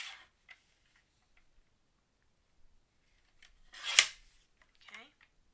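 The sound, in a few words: cutting a yellow card mat for card making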